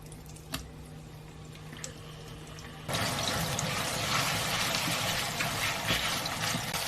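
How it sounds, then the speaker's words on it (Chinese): Minced pork hits hot lard in a wok; after a few quiet clinks, a loud, steady sizzle erupts and keeps crackling close up. "倒入剁好的猪肉馅，"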